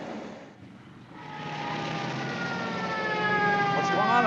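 Police car sirens wail, rising in pitch and growing louder over a steady engine hum, sweeping up and down as they draw nearer, in a 1950 film.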